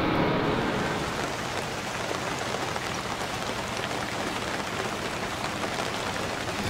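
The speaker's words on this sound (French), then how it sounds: "Il pleut." Steady rain falls outdoors, a dense, even hiss of drops on surfaces that stays constant and fairly loud with no other sounds.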